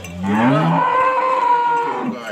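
A native desi goat, pregnant, gives one long, loud, close bleat lasting about two seconds, its pitch rising and then holding steady, with no talking around it.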